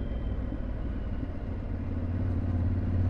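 Steady low engine drone and wind rumble from a 2023 Yamaha Tenere 700 motorcycle under way on the road, continuous and fairly loud with no voices.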